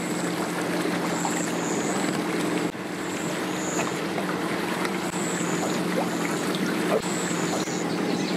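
A small boat with a Yamaha outboard motor heads out on a river, its engine a steady, moderately distant drone that holds level throughout with no voices over it.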